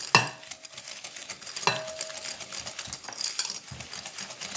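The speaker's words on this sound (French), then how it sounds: "Je mélange." Egg yolks being stirred into butter and sugar in a bowl for a marble cake, a utensil scraping and clinking against the bowl in a few close, irregular strokes.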